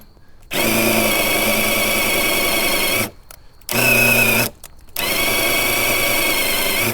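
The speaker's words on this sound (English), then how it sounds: "just use the actual DeWalt bit, the drill bit on the end" A DeWalt drill bit drills out a screw, giving three loud, steady whirring bursts of the motor with brief pauses between them, close up and with no talk.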